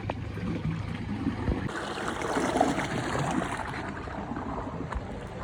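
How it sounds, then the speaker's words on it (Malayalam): Cold water flowing down from a mountain through a wooded stream beside farmland, a steady close rushing and trickling wash that fills the whole stretch with no voices. "ഇത് ആ മലമുകളിൽ നിന്ന് വരുന്ന വെള്ളമാണ്."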